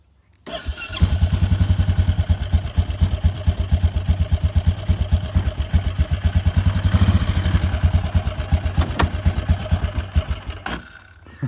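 A Bombardier Traxter ATV engine cranks and fires up close by, settling into a loud, steady rhythmic idle with clattering pulses that runs for several seconds before the throttle drops.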